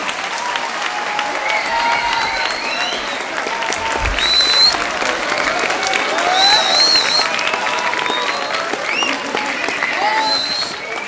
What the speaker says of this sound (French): C'est vrai que vous pouvez l'applaudir encore une fois de mérite.